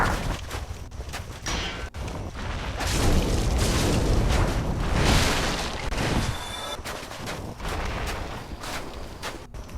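Fire attacks from hollow enemies skilled in pyromancy in the Dark Souls video game, heard as sustained booming, roaring bursts with sharp cracks, loud and continuous throughout.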